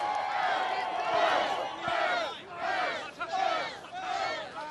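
A home crowd cheers loudly at a World's Strongest Man heat held in Botswana, roaring and whooping in repeated surges with a brief thud partway through.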